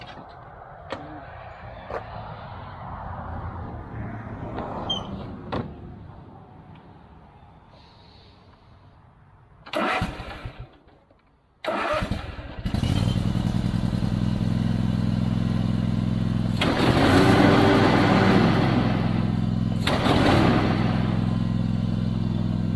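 A Toro zero-turn mower engine is cranked and starts, first some clattering and brief bursts, then a loud, steady rumbling idle with a couple of revving swells.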